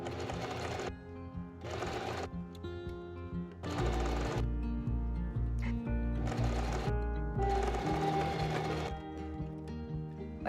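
A sewing machine stitches a ruffle tier of a maxi skirt in several close bursts of fast, even whirring, each lasting a second or two, separated by short pauses, with no talking.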